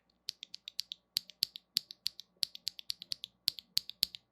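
Sharp, crisp clacks of factory-lubed mechanical key switches on a Glorious GMMK Pro keyboard pressed one after another in a quick, uneven rhythm, close and isolated.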